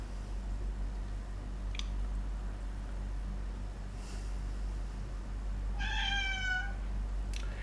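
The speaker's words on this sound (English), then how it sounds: "Stupid cat." A cat gives a single short meow near the end, moderately distant, over a steady low background hum with a couple of faint clicks earlier.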